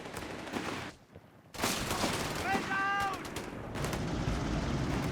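Bazooka blasts and gunfire in the WWII strategy game Company of Heroes 3, during a 1v1 match, heavy crackling battle noise that drops out briefly and then resumes loud and continuous, with a whistling shell sweep midway.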